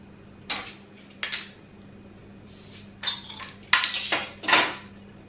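Cucumber pieces dropped into a glass for a Moscow Mule, several separate clinks and knocks against the glass, spaced out, close and quiet.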